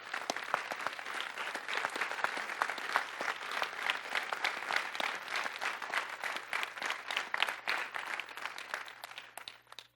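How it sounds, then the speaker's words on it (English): Convocation audience applauding steadily and loudly for the full stretch, many hands clapping densely together in a large hall, with no voices standing out. "give yourselves a round of applause"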